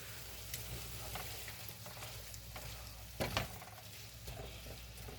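Pork stir fry with hoisin sauce, soy sauce and brown sugar sizzles quietly in a pan with a continuous hiss, punctuated by a few scraping stirs and one louder clatter.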